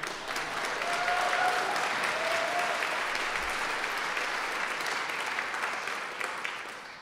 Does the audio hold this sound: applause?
yes